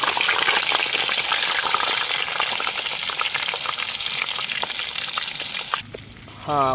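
A forest quail fries in a pan outdoors, giving a loud dense sizzle and crackle of hot oil that holds steady throughout, then drops away near the end as a brief tonal sound cuts in.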